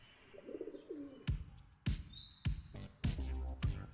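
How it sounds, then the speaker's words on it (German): Low pigeon cooing from the Espresso Tycoon video game, a soft bubbling call in the first second, followed by several sharp clicks and thumps from the game. "ne, eine Taube."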